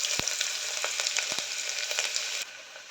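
Spices, onions and green chillies fry in hot oil in a cooker, giving a steady loud sizzle with a few sharp crackles and pops before it drops quieter near the end.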